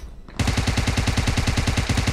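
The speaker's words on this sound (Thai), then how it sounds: "ตรงนี้มีเสียงปืน" Automatic weapon fire in PUBG Mobile bursts in after a short quiet moment, a loud, rapid, evenly spaced stream of shots running steadily to the end.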